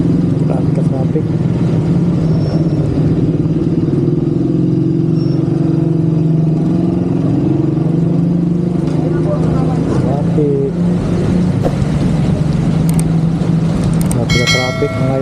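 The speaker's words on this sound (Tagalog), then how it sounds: "Traffic dito ngayon." Busy road traffic in Marawi City in the rain, with cars and motorcycles rumbling steadily close by, engines droning and a few horn toots near the end, while people talk over the noise throughout.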